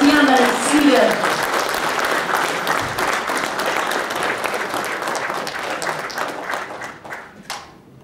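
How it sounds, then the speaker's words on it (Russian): Audience applause welcoming a singer at an author-song concert, a dense, steady wash of clapping that runs throughout, with a voice briefly over its opening moments, then thins and fades toward the end. "Давайте будем встречать ее дружными аплодисментами."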